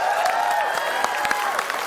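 Studio audience applause on an Indonesian TV comedy quiz show, a steady wash of clapping with sharper individual claps standing out, with music or tones running underneath.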